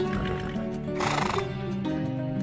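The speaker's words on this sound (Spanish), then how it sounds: "se topó de bruces con el rostro alargado de un caballo" A horse whinnies loudly and close by in a shrill, shaky neigh that peaks at the middle, as an audiobook sound effect set over a steady musical backdrop.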